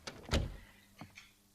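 A door opening in the horror video game Post Trauma, heard as a loud thunk followed by a shorter, softer knock about two-thirds of a second later, with no voices.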